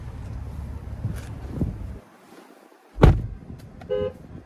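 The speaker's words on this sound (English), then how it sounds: "There's the horn sound there." A 2024 Chevy Blazer RS horn gives one short, loud, close toot after a brief hush, amid light wind and handling noise.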